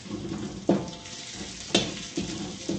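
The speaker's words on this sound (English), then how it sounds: "Let's simmer it, mix it around furthermore until the garlic has been well cooked." Rice and garlic frying in a pan while being stirred, a steady close sizzle broken by three or four sharp scraping knocks of the utensil against the pan, with no talking.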